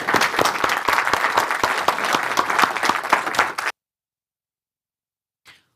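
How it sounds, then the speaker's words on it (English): Audience at the National Manufacturing Summit 2023 applauding: steady, dense clapping for nearly four seconds that cuts off abruptly, followed by silence and a brief faint noise. "So please, an applause."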